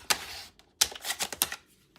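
A paper trimmer slices card stock for a cozy Christmas craft project, giving a few sharp, close cutting and sliding strokes with short pauses between them, no talk.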